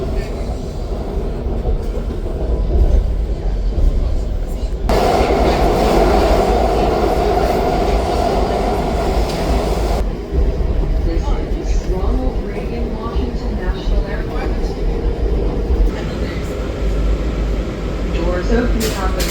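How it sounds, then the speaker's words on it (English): A DC Metro Yellow Line subway train riding toward Huntington, with a steady loud rumble and rattle of the car throughout and a rise in roar midway, likely from speeding up or a tunnel stretch. "Just a little bit later there was a Yellow Line train, so I got on that and it took me to Huntington."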